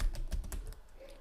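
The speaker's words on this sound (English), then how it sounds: "So I'm going to have this really long URL to type." Quick keystrokes clatter on a computer keyboard while someone types out a long URL, a close, steady run of clicks that thins out toward the end.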